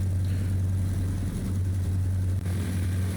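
A simulated T-6 Texan propeller trainer idling in the X-Plane 12 flight simulator, giving a steady, deep, droning engine hum that stays even and close throughout with no talking.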